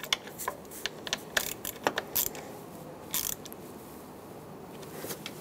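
Spark plugs on a 5.7L V8 in a 2003-2009 Dodge Ram 2500 are tightened by hand, giving faint intermittent ratcheting clicks and metallic creaks in a quiet space.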